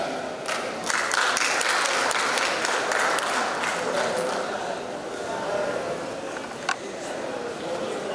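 Sustained audience applause at a regional sports event in Kepri, Indonesia, a dense steady clapping wash lasting several seconds with a brief sharp click near the end.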